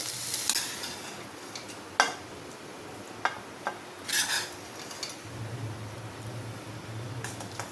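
Masala okra (bhindi) being stirred with a spoon in a pan on a stove that has been switched off, giving scattered scrapes and clinks over a soft sizzle, with a low steady hum coming in partway through.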